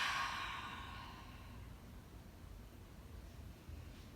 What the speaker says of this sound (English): One big inhale in. Exhale, let it all come out.